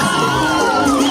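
Women at an engagement ceremony let out a sustained, trilling ululation, high and wavering, rising over a loud, cheering crowd in a festive hall.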